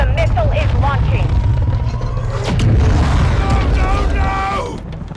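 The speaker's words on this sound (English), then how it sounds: "the missile is launching" Missile launch and explosion from Call of Duty Modern Warfare 2 (2022): heavy sustained booming rumble with a sharp burst near the middle, under loud overlapping game voices and radio chatter.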